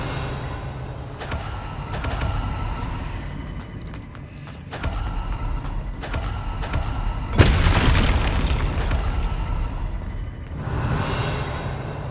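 A Confringo fire spell blasts in Hogwarts Legacy, a loud booming explosion that bursts sharply near the middle, set among other rumbling spell impacts and a steady game backdrop.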